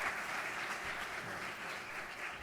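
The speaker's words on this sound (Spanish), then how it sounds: "Denle un aplauso a ellos" Audience applause at a university forum in Bogotá, a soft, steady patter of many hands clapping at a distance, continuous and without voices.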